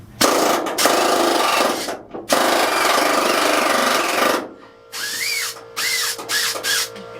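An air tool strips rust and coating from the driver's floor pan of a 1979 Ford F250, running loud and harsh in long bursts, with shorter hissing bursts later as air leaks past a hand.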